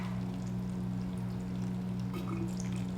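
Water poured from a small vessel onto a potted houseplant makes a soft, continuous trickling pour with faint splashes, close and quiet, with no talking.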